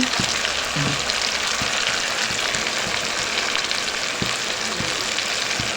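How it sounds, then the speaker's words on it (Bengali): Quail meat sautéing with turmeric, chili, garam masala and cumin powders in a pan for a Bangladeshi quail bhuna, giving a steady dense sizzle with occasional soft stirring scrapes and no voices. "ভালো করে মশলাটাকে কষিয়ে নিচ্ছি"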